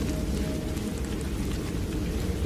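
Steady rain pours down on a monsoon night beside a rural courtyard and marsh, a dense, even hiss with no voices and no breaks.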